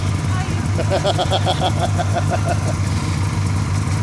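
A snowmobile engine idles steadily close by while riding over private land, its low rumble continuous with a brief rhythmic ticking pattern partway through.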